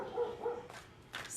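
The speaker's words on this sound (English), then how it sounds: "She's barking like crazy. You guys can probably hear her in the background." A dog barks outdoors, a few muffled barks at moderate distance in a quiet indoor setting.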